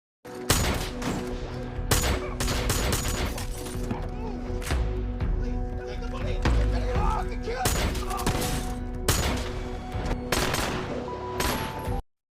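Rapid bursts of loud film gunfire crack and echo in close succession during a robbery shootout, mixed with crashing and shattering impacts throughout.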